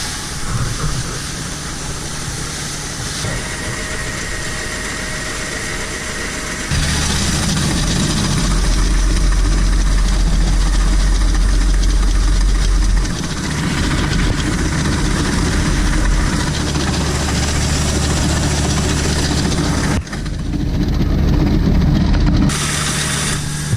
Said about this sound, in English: So we're going to close this down so we can kind of get the auger halfway empty.